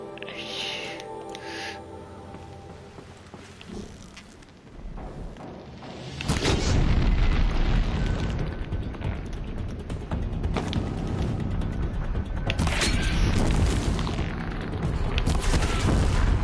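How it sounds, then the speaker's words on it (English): A large explosion in the video game Horizon Zero Dawn hits suddenly partway through, a loud broadband blast that gives way to sustained rumbling and crackling debris, following quieter game ambience and musical tones. "That's a bigger explosion than I anticipated."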